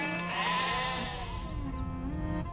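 Sheep bleating among livestock in a Mongolian mountain pasture, a drawn-out wavering bleat under a steady outdoor hum, with a brief high whistle-like cry partway through.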